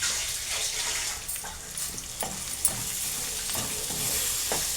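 A spoon scrapes and stirs chili powder, coriander powder and salt together in a pan for gaarala pulusu, a soft wet sizzling swish with irregular strokes and no talk.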